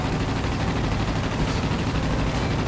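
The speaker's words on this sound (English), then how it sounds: "I should be able to tear this aircraft apart pretty quickly with the 8 machine guns." Eight machine guns of a Spitfire Mk I in World of Warplanes, firing a continuous loud, dense rattle of rapid shots with no pause through the whole stretch.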